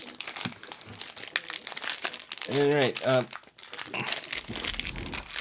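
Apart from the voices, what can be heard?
Pocky packet being opened, plastic crinkling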